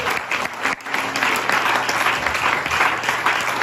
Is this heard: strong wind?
no